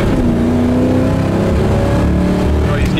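A 1969 Nova's 307 V8 with a four-barrel carburetor revs hard and pulls strongly, its steady loud roar rising in pitch as it accelerates, close up from inside the car.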